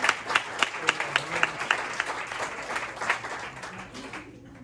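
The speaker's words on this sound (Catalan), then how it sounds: "Doncs fora aplaudiment per ells dos, sisplau" An audience at a Catalan talk on Marià Vayreda gives a short round of applause, first in a few crisp claps, then a brief, moderately loud patter that fades out.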